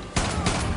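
A single close, loud shotgun blast in Far Cry 5, a sharp burst that rolls into a second boom and lingering noise.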